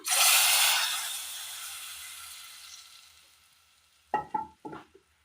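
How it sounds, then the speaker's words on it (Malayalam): Cooked chickpeas poured into fried masala in a clay pot, starting with a loud burst of hissing sizzle that gradually fades, followed by a few sharp clinks of a utensil against the pot. "കുക്കറിൽ വേവിച്ചെടുത്ത കടല ചട്ടിയിലേക്ക് മാറ്റിയിരുന്നു. മൂപ്പിച്ച് വെച്ചിരിക്കുന്ന മസാല കറിയിലേക്ക് ചേർത്ത് കൊടുക്കാം."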